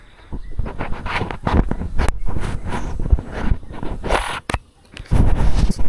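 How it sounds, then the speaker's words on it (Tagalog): Strong, gusty wind buffets the microphone in loud, uneven bursts, with brief lulls between rough blasts. "medyo may kalakasan ng ating hangin ngayon"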